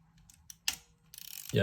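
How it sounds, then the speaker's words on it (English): A Topcon RE Super film camera's advance lever winding, a quiet mechanical ratcheting with a rapid series of small clicks building up, ending in a firm snap, preceded by a couple of faint taps. "shutter and the advanced lever,"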